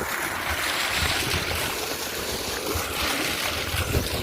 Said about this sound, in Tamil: பாருங்க, தண்ணி மோட்டர்லேருந்து வந்துக்கிட்டு இருக்குது